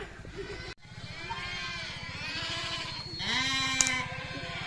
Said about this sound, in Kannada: ಮೇಕೆ ಕುರಿಗಳು ಸೌಂಡು ಹಿಂಗೆ